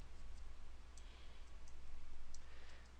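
Soft, close mouse clicks while stepping through a SQL Server installer on a computer, a few light clicks spaced apart over a steady low background hum.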